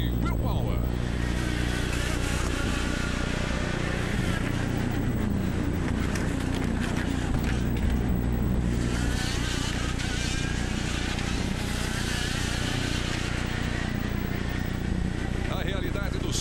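Someone's IndyCar racing in Baltimore, heard onboard: a continuous high-revving engine whine with buzzy wind and gear changes, heavy throughout, with a voice talking over it.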